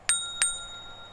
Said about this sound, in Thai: และก็กดกระดิ่ง